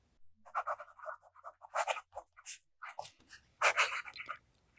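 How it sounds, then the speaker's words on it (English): A fountain pen nib writing in an Office Depot reporter's notebook, soft close scratching strokes in short bursts with brief pauses, quiet and alone with no voices. "The next writing sample is done in an Office Depot reporter's notebook."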